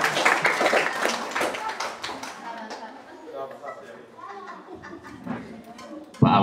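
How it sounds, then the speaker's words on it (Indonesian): An audience at a school gathering claps, with loud, dense clapping at first that thins into scattered, softer claps, while voices talk underneath and a sharp thump comes at the end. "Kita semua tepuk tangan."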